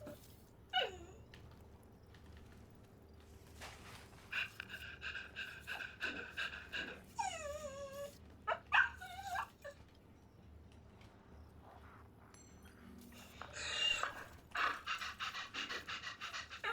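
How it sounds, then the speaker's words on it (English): A dog pants steadily and breathily up close, with several higher whining whimpers breaking through over quiet room noise and no talking. "The dog kind of always sounds like they're out of breath."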